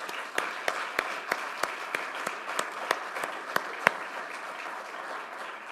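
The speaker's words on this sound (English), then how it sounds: "Maybe that's worth a round of applause for all of you." An audience at the Mission Soil Investment Forum applauds in a hall, a steady wash of clapping from many hands with a few louder, closer claps standing out.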